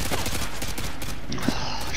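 Gunfire in the video game Call of Duty: Modern Warfare 2 during an online match, a dense continuous stream of shots and battle noise with a louder hit near the middle, under game sound and occasional talk.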